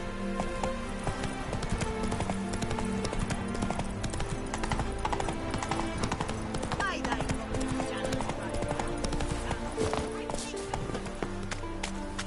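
Roach, the horse in The Witcher 3, gallops with steady rapid hoof clip-clops under game music and ambience, with a brief whinny; no one speaks.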